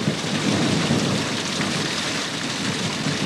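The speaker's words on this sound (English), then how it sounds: "The first storm clouds herald the approaching wet, and the light rain is welcomed by the parched earth." Light rain falls steadily with rumbling thunder during the first storm of the wet season in the Gulf country, a dense, continuous wash of close rainfall with no voices.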